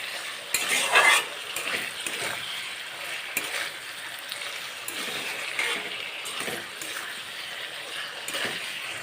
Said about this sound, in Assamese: এতিয়া মাংসখিনি ভালকৈ লাৰি দিওঁ আৰু তেলত ভালকৈ ভাজি লওঁ।